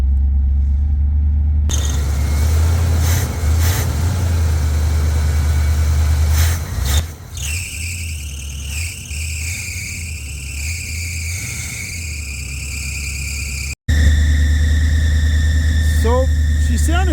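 A 1983 Chevrolet Camaro Z28 engine idling, a loud, steady low rumble heard from near the rear of the car, with a short cut out near the end before the drone returns.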